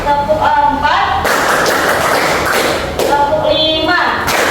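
Indonesian schoolchildren in an Islamic ethics (Akidah Akhlak) lesson clap a counted rhythm pattern in unison, sharp bursts of classroom clapping, close and loud, broken by a teacher's voice calling the counts between the groups.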